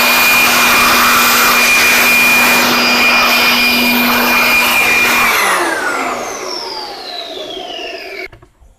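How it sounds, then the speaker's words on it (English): A loud air blower hisses steadily to clear excess cleaning solution from a Panasonic RX-CS880M2 cassette tape recorder during repair, its whine falling in pitch as it powers down near the end. "now I'll remove any excess solution with the blower"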